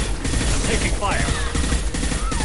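Rapid bursts of gunfire in the video game Mass Effect 2, crackling shots and clanks mixed with game effects in a busy combat scene, with voices talking over the fighting.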